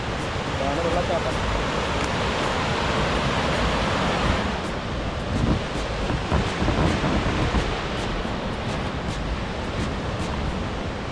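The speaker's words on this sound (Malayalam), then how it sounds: "ഇതാണ് വെള്ളച്ചാട്ടം." Waterfall near Amboori, Chakkappara in Kerala, a steady loud broadband roar of rushing water filling the scene throughout, with a person's speech briefly audible over it.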